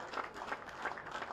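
Steady applause from a cricket crowd greeting a batsman's record-breaking T20I century, a continuous dense patter of many clapping hands, moderately distant and fairly quiet.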